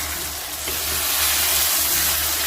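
Tomatoes sauté in a pan for a prawn gravy, giving a steady, close sizzle with continuous bright frying crackle and a faint stirring sound, no voices over it.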